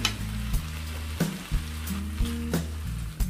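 Steady sizzling of sauce with soy sauce, sugar and white pepper frying in a hot pan, with a few sharp knocks and scrapes as it is stirred.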